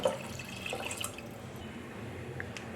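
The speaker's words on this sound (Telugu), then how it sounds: "తగినన్ని నీళ్లు పోసుకోవాలి" Water poured into tamarind juice for tomato rasam, with soft dripping and splashing liquid sounds at a steady low level and no voices.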